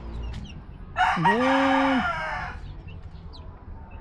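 A rooster crows once on a backyard farm, a loud rising then held call near the microphone, with faint rustling background before and after.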